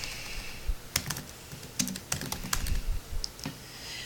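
Keys clack on a computer keyboard while a title is typed into a quiz form, a sparse, irregular run of crisp close taps with short pauses between bursts and no talking.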